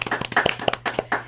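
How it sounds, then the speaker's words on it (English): A small group claps for a musician after a performance, sparse close hand claps in an uneven rhythm, heard alone and briefly. "Let's give him a round of applause,"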